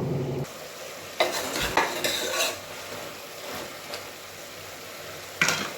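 Food frying and being stirred in a pan for radish sambar, with scraping and clinking of a utensil against the pan in bursts over a steady background sizzle; no talking.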